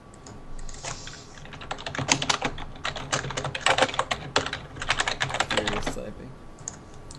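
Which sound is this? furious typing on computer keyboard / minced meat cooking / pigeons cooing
furious typing on computer keyboard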